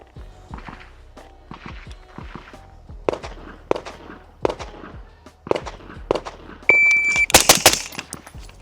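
Suppressed gunshots fired while testing single and two stage triggers, a string of sharp muffled cracks at irregular intervals, close and fairly loud, with a high electronic tone near the end.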